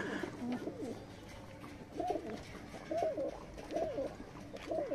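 Teddy pigeons at a Bangladeshi pigeon market coo in soft, repeated rolling phrases about once a second over a low background murmur, moderately close.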